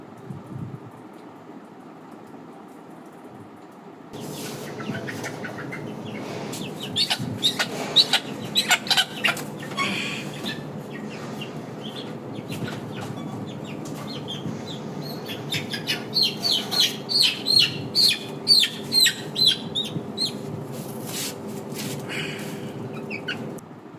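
Fayoumi chickens released one by one into a new low-cost shed cluck and call repeatedly, close and fairly loud, with bursts of rhythmic clucking and bird chirps over a constant background hum.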